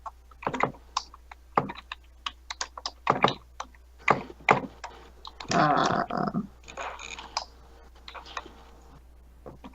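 Rapid clicking of a computer keyboard being typed on, close and fairly loud, with irregular bursts of keystrokes and a dense flurry in the middle.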